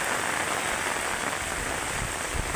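Heavy typhoon rain from Kristine lashes down in Masbate Province, a loud, dense roar of drops pounding nearby surfaces without pause or voices.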